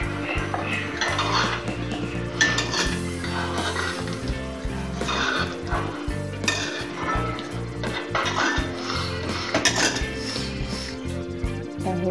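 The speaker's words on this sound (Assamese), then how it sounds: "কচুখিনি উঠাই ল'ম।" Boiled taro being lifted out of a cooking pot onto a plate for a traditional Assamese sour taro curry, with steady clatter and scraping of metal utensils against pots and dishes, close and continuous.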